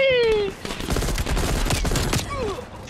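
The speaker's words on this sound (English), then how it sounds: "Who's shooting me down?" Rapid gunfire in the video game Call of Duty: Black Ops Cold War, loud dense bursts of shots running nearly continuously, with a falling whistle-like tone at the start and a brief tonal chirp near the end.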